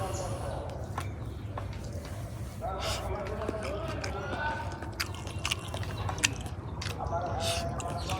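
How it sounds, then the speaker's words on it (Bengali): Someone chewing rice close up in an ordinary home, with soft irregular mouth and biting noises repeating over a steady background murmur and occasional voices nearby. "এখন ভাত খাইতেছি"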